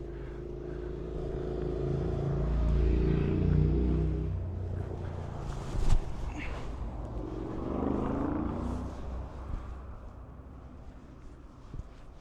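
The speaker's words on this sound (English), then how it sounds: "You can hear some bikes coming along now." Motorbikes on Chapman's Peak road, a coastal cliffside drive, rumble and rev as they approach and pass, heard from the roadside amid steady wind and traffic noise, with a louder swell midway.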